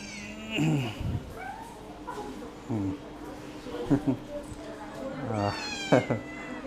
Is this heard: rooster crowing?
no